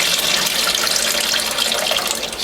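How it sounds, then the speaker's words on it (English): Water pours off washed collard greens from a salad spinner in a kitchen, a continuous loud splashing stream that runs steadily for a couple of seconds, with no talking. "pour off the water"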